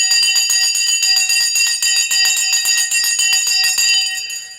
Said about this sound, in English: The bell has now gone.